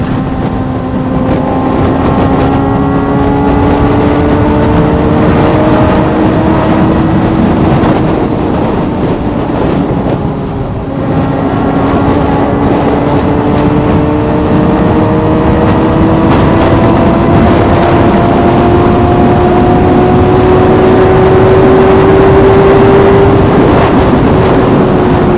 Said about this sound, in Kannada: ಹೈಯರ್ ಆರ್ ಪಿ ಎಂ ಅಲ್ಲಿ ಥ್ರಾಟಲ್ ಬ್ಲಿಪ್ ಮಾಡಿದಾಗ ಹೆಂಗ್ ಕಿರ್ಚುತ್ತೆ ಅಂತ